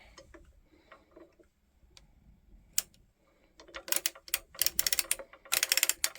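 A circular sock knitting machine being cranked around: sparse light ticks at first, then quick rattling ratchet-like clicks that grow louder and denser as the crank turns.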